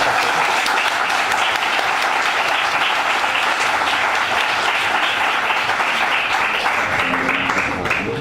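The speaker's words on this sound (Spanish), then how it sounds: "Muchísimas gracias y un aplauso." A lecture audience gives sustained, dense applause at the close of a talk on Michel Foucault's Las confesiones de la carne, steady and loud throughout with a faint voice near the end.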